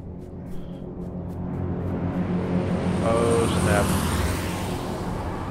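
A propeller airplane drones overhead in the battle-royale video game H1Z1 King of the Kill, a steady broadband engine rumble that swells slightly louder midway through and holds on.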